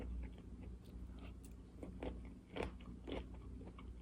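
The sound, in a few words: chewing crunchy cooked broccoli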